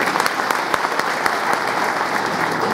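Loud, dense applause from a crowd at a public gathering in Jalgaon, Maharashtra, steady and unbroken from start to finish.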